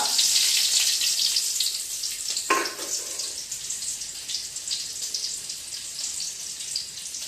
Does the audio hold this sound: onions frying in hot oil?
yes